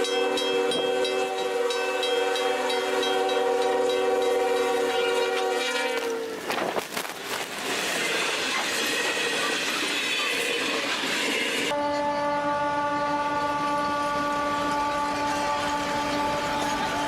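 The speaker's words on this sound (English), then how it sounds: "A train plows through the snowy tracks, blasting snow so high it nearly disappears in the whiteout" A train plows through snowy tracks in a whiteout, its steady loud rumble joined by sustained horn tones that shift pitch partway through, with no voices.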